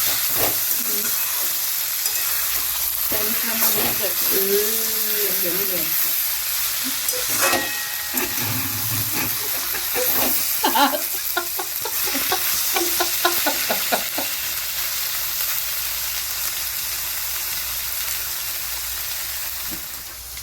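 Vegetables for vegetable chow mein stir-frying in a pan, a steady loud sizzle and hiss throughout with occasional scraping stirs, heard up close.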